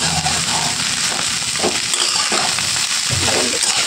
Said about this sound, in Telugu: ఫస్ట్ అన్నానికి అంతా కూడా ఈ ఎగ్ పట్టేలాగా దీన్ని అయితే నీట్గా కలిపేసుకోవాలి